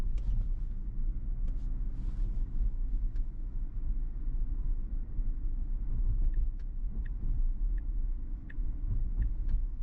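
A Tesla running Full Self-Driving Beta accelerates away from a stop, a steady low road rumble and hum of tyres and motor filling the cabin, close and continuous with faint clicks over it.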